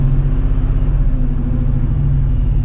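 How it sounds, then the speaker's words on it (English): A crashed BMW E39 M5 with its supercharged S62 engine revs in a sustained, loud, rumbling run held near the car. "I'll just rev it"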